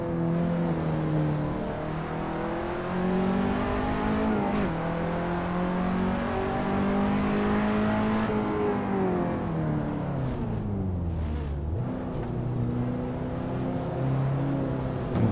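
KTM X-Bow R race car in Assetto Corsa at the Nürburgring Sprint, its engine droning loud and steady with rising and falling revs through shifts and braking, no voices over it.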